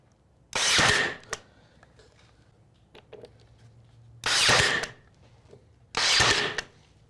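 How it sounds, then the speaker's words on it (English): A brad nailer drives nails into glued wood pieces for a stove top cover, firing three loud, sharp bursts with pauses between them and a few small clicks in the quiet gaps. "we have a brad nailer, so I'm just gonna go ahead and nail each of these in after I glue them."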